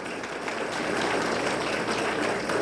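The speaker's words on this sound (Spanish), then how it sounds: "Un aplauso." An audience applauds at a medical conference session, broad steady clapping from a crowd that stays even and full for a couple of seconds without fading.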